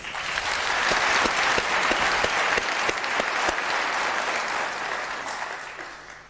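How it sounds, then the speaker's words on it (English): Graduation ceremony audience applauding at a university conferment, a dense, steady wash of many hands clapping that holds loud for several seconds and then tapers off at the end. "can I request another round of applause?"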